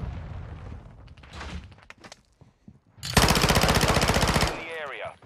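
Automatic gunfire in a video game shooter fires as one loud, rapid burst lasting about a second and a half, following quieter talk and scattered game sounds.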